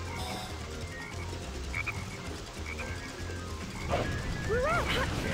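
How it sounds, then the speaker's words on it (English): A frog in Sonic Heroes croaks in a rapid cluster near the end, backed by steady game music and ambience, with a few chirpy effects earlier. "I mean, frog."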